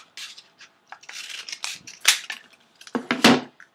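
Scissors snip through paper during a papercraft toy gun build, a series of crisp close cuts with short pauses and a couple of louder snaps near the end.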